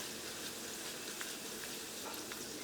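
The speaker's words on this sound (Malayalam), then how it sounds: "ഈ മുളക് പൊടിയും എണ്ണയിൽ കിടന്ന് നന്നായിട്ട് മുരിഞ്ഞിട്ടുണ്ട്." Chili powder frying in oil for tomato pickle, a soft continuous sizzle with faint crackles and stirring, quiet and close, with no talking.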